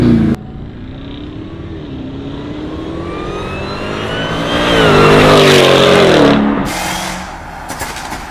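A Dodge Charger Hellcat Redeye V8 with an X-pipe exhaust revs up and down with a deep, throaty rumble, building to a loud roar before settling back, close by.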